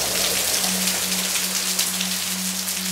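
Steady rain pours down without a break, a dense, even hiss of drops striking surfaces, with a faint low hum running underneath throughout.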